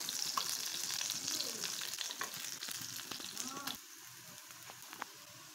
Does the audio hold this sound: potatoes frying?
yes